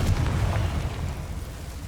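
A Confringo fire spell explodes in Hogwarts Legacy, a dense low rumbling boom that fills the whole moment with no clear separate hits, loud and close.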